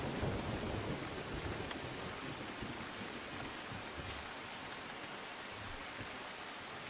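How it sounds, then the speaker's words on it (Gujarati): Heavy downpour in Valsad district, Gujarat, a steady dense hiss of rain pouring without pause, with a low rumble underneath that may be thunder; no voices. "વલસાડ જિલ્લામાં ધોધમાર વરસાદ ખાબક્યો છે"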